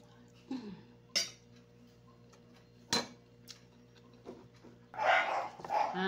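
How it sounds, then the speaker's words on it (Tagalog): A dog at home gives several short, sharp barks spread through the stretch, close by, with a burst of clatter near the end and a faint steady hum underneath. "Ingay yung aso ko."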